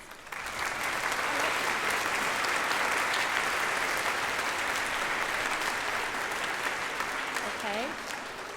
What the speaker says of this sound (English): can we give a round of applause to the children of Thomas Wolsey for these brilliant questions?